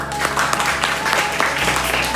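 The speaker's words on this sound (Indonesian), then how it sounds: "Tepuk tangan untuk kelompok" Students in a classroom applaud a presenting group after a translation lesson, a steady round of clapping with a low hum underneath and murmured voices mixed in.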